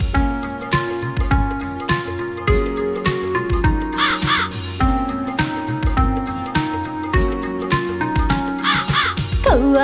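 A cartoon crow caws repeatedly in a 3D animated Hindi nursery rhyme, its harsh calls recurring throughout over loud, bouncy children's music.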